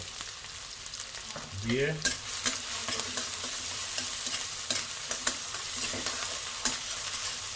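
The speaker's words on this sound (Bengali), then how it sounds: "এটাকে ভালো করে ভেজে নেব।" Chilli chicken frying with chillies in a pan, a steady sizzle broken by sharp scraping stirs and clinks, close and moderately loud, with a brief word spoken early.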